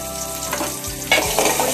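Chopped tomatoes frying in a pan are stirred, a close sizzle with a couple of scraping spoon strokes and a brief surge of hissing.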